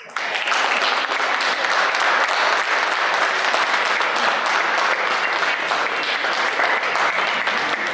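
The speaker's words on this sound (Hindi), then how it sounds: "आपकी शानदार तालियों के साथ बुलाना चाहेंगे काव्या जी।" An audience breaks into sustained applause, a dense, even wash of clapping that stays loud and steady for several seconds with no talking over it.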